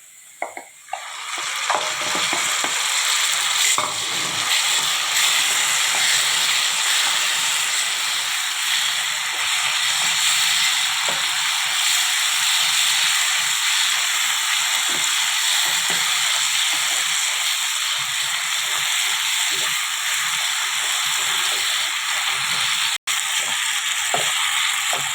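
Gongura and amaranth leaf curry frying in a pan gives a loud, continuous close sizzle and hiss that holds almost unbroken throughout, with a few faint clicks at the start and one sharp tick near the end; no talking.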